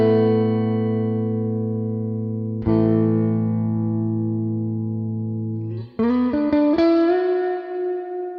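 Electric guitar through an emulated Fender '63 spring reverb in AmpliTube 5: two sustained chords ring out with long reverb tails, then a quick run of short plucked notes that splash and decay.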